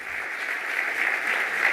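Steady applause from an audience welcoming a classical music septet on stage, a dense even patter of many hands clapping continuously without pause, fairly close and moderately loud.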